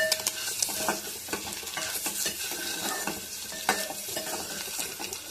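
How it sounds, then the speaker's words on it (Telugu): Eggs frying for egg dum biryani: steady sizzling in a hot pan, with continuous stirring scrapes and light clinks of the spatula throughout. "అందుకే త్రీ ఎగ్సే తీసుకున్నాను ఇది మంచిగా ఫ్రై చేసుకోవాలి"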